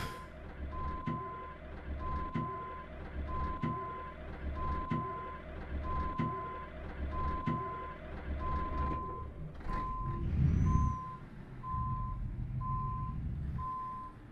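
Euro Truck Simulator 2 truck reversing, its backup alarm beeping steadily at an even pace for about ten seconds over a low engine rumble, then stopping as a brief hiss and engine swell follow.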